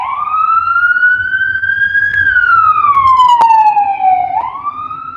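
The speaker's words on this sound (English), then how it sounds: "here comes the ambulance or the fire truck" An emergency vehicle siren in Montana, ambulance or fire truck, wails loudly in a long, slowly rising and falling sweep as it passes close by, with a brief sharp knock partway through.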